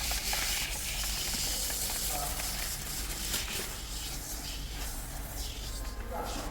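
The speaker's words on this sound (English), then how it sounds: "So we're gonna spray down" Continuous hissing spray of solution across a BMW rear window during window tinting, a steady broadband wash with faint clatter underneath, close and sustained throughout.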